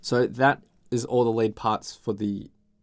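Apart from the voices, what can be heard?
No distinct noise like a dog, phone or traffic.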